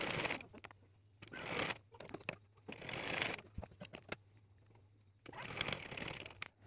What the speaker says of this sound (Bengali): এই সেলাইয়ের উপর দিয়ে কিন্তু এখন আমাদের সেলাই দিয়ে আটকিয়ে নিতে হবে